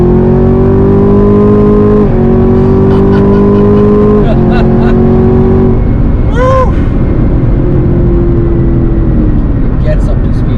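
A Chevrolet Camaro ZL1 accelerating hard, its loud engine note climbing in pitch and dropping sharply at several quick 10-speed gear shifts, with a passing whoosh in the middle and a sustained roar throughout.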